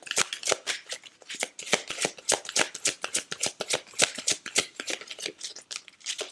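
Oracle cards shuffled by hand in a rapid run of crisp riffling flutters and snaps, close and loud, with no talking.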